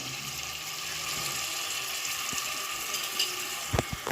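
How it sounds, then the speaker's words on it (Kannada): Eggs frying in oil with turmeric and salt crackle in a steady, close sizzle, with a few louder spatters and pan knocks near the end. "ನೋಡಿ ಫ್ರೈ ಆಗ್ತಿದೆ"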